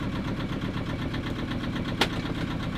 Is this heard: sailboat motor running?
yes